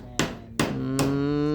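Nails being hammered into wood while a house kitchen is built, three sharp, ringing close strikes about half a second apart, each leaving a resonant tone that hangs on.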